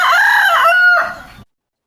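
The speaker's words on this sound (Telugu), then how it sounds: "ప్రతిరోజు తెల్లవారగానే టెన్షన్గా నిద్రలేపే కోడి కూత" A village rooster gives a single loud, close crow about a second and a half long, rising and then trailing off, with no other sound around it.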